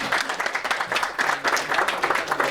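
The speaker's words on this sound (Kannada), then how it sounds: "ಜೋರಾದ ಚಪ್ಪಾಳೆ ಬರಲಿ" An audience at a film event for the movie Udaal breaks into loud, continuous clapping, with a dense, fluttering patter of many hands sustained throughout.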